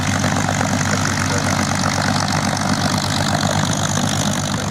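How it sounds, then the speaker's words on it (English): A 360-horsepower nine-cylinder radial engine powers an aerobatic plane at an airshow. It makes a loud, steady, low drone that holds an even level throughout, with no voices over it. "Very Russian sound of the Millennium 9-cylinder radial 360 horsepower engine."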